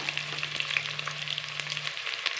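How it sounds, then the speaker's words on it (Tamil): Steady sizzling and crackling of shallots sautéing in a hot pan for chicken rasam, close and fairly soft, with a faint low hum running underneath. "சின்ன வெங்காயம் சேர்த்து இப்படி நல்லா வதக்கி விட்டுக்கலாம்."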